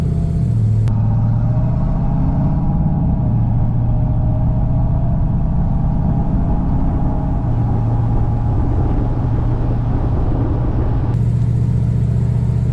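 A 1969 Camaro Super Sport engine hums steadily with road rumble throughout, a constant low drone while driving, with no talking.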